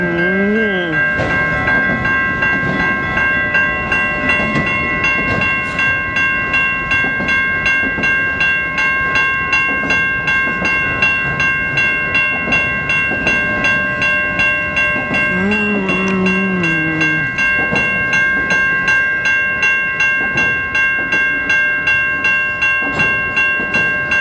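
A Norfolk Southern auto rack train rolls steadily past the Vinewood Ave railroad crossing in Wyandotte, Michigan, loud and close, with a rhythmic clatter of cars, a ringing crossing bell throughout and horn blasts near the start and around the middle.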